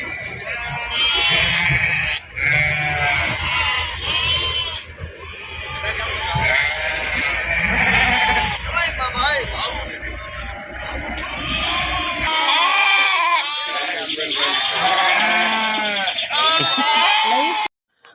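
Sheep and goats bleat constantly at the Gudur sheep market, a dense chorus of overlapping calls near and far, with a low crowd murmur underneath that drops away partway through.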